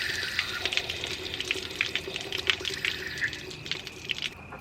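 Water gushes and splashes steadily from an RV water heater relief valve, a close hissing spray with bubbly fluctuations that eases off near the end.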